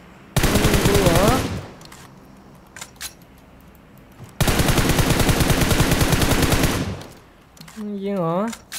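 Automatic gunfire in PUBG Mobile comes in two long, loud, rapid bursts, each lasting about a second or two, separated by quieter gaps with a few scattered single shots and metallic clinks, and a voice speaks briefly near the end.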